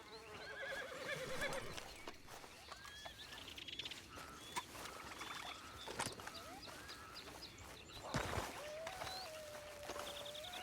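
Horses neigh and snort among clopping hooves and scattered birdsong in the video game Red Dead Online. A long whinny rises near the end, with no talking.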